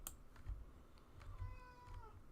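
A cat meows repeatedly in the video game Center Station Simulator, a few short, fairly faint mews alone over soft clicking and low background noise.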